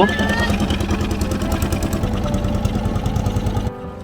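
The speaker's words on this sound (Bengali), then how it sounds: "আমাদের নৌকা ইঞ্জিন চালিত নৌকা করেই আমরা চলে যাব" An engine-powered river boat's motor runs close by in a rapid, rough chugging drone that holds steady, then cuts sharply quieter just before the end.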